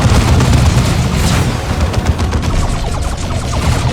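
Eldar weapons fire in Dawn of War 2, a dense, continuous barrage of booming shots and blasts, loud and unbroken with no talk.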